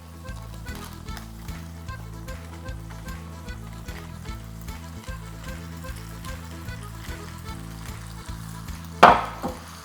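Mashed garlic frying in a pan on low heat, a close, continuous sizzle with soft crackles and a rhythmic low pulsing underneath, ending in a single sharp clack near the end.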